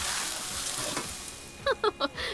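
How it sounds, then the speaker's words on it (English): Chicken stir-frying in a pan in the Sims 4 video game, a steady sizzle with a few short bright clinks or chirps near the end. "Chicken stir fry like you never seen."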